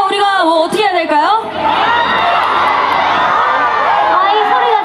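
A concert crowd at an outdoor K-pop festival in Gwangyang cheers, whoops and shouts continuously, loud and dense, after a brief stretch of shrill screams at the start.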